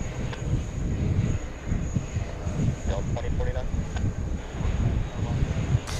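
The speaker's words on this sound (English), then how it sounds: "This one coming in from Milan. Flight 199. a Boeing 777-200, slowing down on 4 right." An American Airlines Boeing 777-200 arriving from Milan slows down on runway 4 right at JFK, a rumbling, windy roar from a distance with people talking over it.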